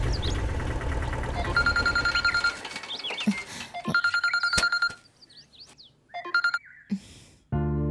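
A telephone rings in a domestic TV drama scene, its bell-like ringtone repeating in bursts over background music and sound effects, fairly close and clear.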